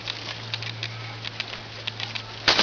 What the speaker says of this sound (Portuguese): Nossa, deu uma chuva.